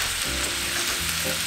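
Spicy pork sausage frying in a pan for a crock pot queso dip, giving a steady, close, even sizzle with no breaks.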